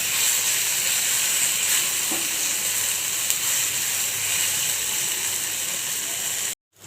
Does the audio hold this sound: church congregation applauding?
no